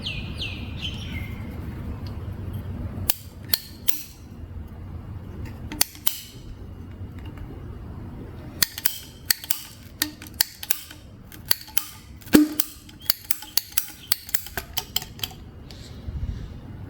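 A part is cut to length with a hand cutter while fitting vacuum and water temperature gauges to a 2008 Lancer, giving a series of sharp close snips and clicks in irregular bursts over a low background rumble.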